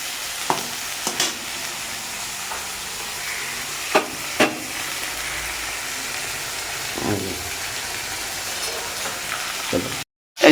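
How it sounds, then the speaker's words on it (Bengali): Prawns frying in a pan produce a continuous soft sizzle, broken by a few sharp clinks and scrapes of stirring. The sound cuts off abruptly near the end, and no one speaks. "চলুন মাছটা কতক্ষণে ভাজা ভাজা হোক।"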